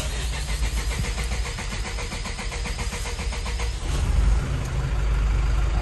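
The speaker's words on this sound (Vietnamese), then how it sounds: "bây giờ mình sẽ nổ máy để các bạn có thể cảm nhận nghe được cái âm thanh thử" A JAC N800 8.35-tonne truck engine from 2022 turns over and catches, then settles into a steady low idle rumble that grows slightly louder toward the end.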